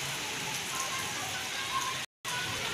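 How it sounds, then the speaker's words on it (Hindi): Heavy rain pours down steadily on a flooded street as people walk with umbrellas to collect children from school, a dense continuous hiss with a brief dropout near the end. "बारिश बहुत तेज है।"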